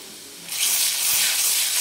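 Red chili powder and garam masala hit hot oil in a pan for mutton rassa, bursting into a loud, steady hiss after a half-second of quieter sizzle and continuing alone.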